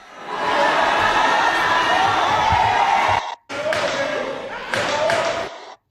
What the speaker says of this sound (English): In seconds, the crowd of hundreds sang her out like a ball player who had just struck out.